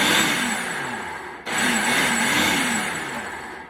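A food processor whirs steadily as it mixes white and brown sugar, a loud continuous motor drone that briefly dips and then resumes.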